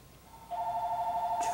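A telephone starts ringing with a steady warbling electronic tone that begins partway in and continues close and clear, with a brief burst of noise near the end.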